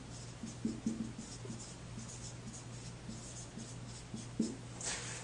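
Marker or chalk writing on a board, with faint scratchy strokes in short irregular bursts against a quiet room hum, ending in a slightly louder tap.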